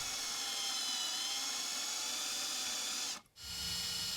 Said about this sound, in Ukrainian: Свердлимо по боках отвори